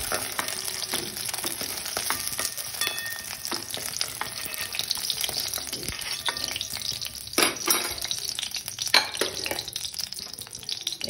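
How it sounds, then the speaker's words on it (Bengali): Fennel seeds, half dried red chilies and a little bay leaf are tempered in hot oil left from frying boal fish, giving a continuous close crackling sizzle with small pops and no talking. "এখন এই তেলের মধ্যেই আমি মৌরি আর হাফ শুকনো লঙ্কা ফোড়নে দিয়ে দিলাম আর অল্প তেজপাতা দিয়ে দিলাম"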